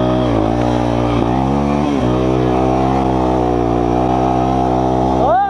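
A loud motorcycle engine idling up close, with a few quick revs rising and falling in pitch.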